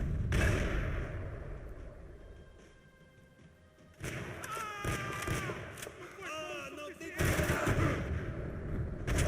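Gunfire in the video game Max Payne 3, with heavy bursts and thumps spread across the clip and loudest near the end, while someone talks over the shooting.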